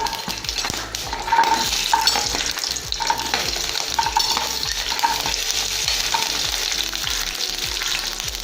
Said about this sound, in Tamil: இதில் நான் எடுத்து வச்சுருக்கிற காஞ்ச மிளகாயை இதில் சேர்க்குறேன். இதை நல்லா வறுத்துக்கோங்க லைட்டாக இப்படி.